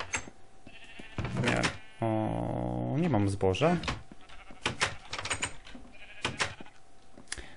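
Minecraft sheep bleat in a wavering, nasal cry in the middle of the clip, loud and close, while people talk before and after it.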